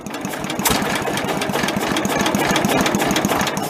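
A tractor engine idles with a rapid, steady mechanical chugging and knocking, loud and close throughout, with no voices.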